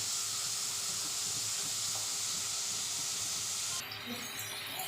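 Chopped onion sizzles in a hot pan while it is stirred, the first step of an Indian egg bhurji breakfast, giving a steady, even hiss that shifts slightly near the end.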